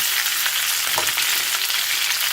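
Guava chutney ingredients with coriander sautéing together in a pan on a low flame, making a steady close hiss of frying with a single soft stir or knock midway.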